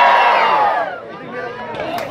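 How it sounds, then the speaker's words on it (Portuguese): Many voices roar together at a Workers' Party campaign rally in São Pedro, Tabira, Pernambuco, a loud collective yell that fades after a second into scattered shouting nearby. "Quem tá com o Flávio dá um grito e levante a mão"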